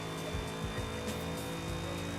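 Car engine in Forza Horizon 5, likely supercharged with an aggressive tone, a steady droning note with gear shifts and some tire squeal, moderately faint.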